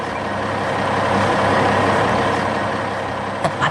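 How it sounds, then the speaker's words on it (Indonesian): Heavy trucks in an animated 3D construction scene drive past with a steady, loud engine rumble and broad noise, a few sharp clanks near the end. "Wah! Lihat truk-truk itu!"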